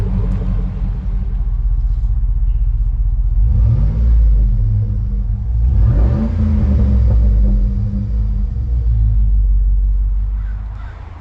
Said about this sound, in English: You hear the nice grumble from the exhaust. The exhaust has a great sounding idle